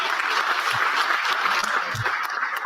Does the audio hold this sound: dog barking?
no